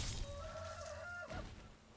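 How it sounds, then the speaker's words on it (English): Chicken clucking in the video game Sekiro, a single drawn-out squawking cry with a rising then falling pitch, fairly close over background game ambience. "Chicken!"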